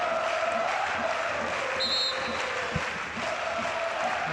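A noisy Belgian crowd at a women's EuroHockey match against Belarus, sustained cheering and clapping with whistles and shouts, a steady dense roar throughout the clip.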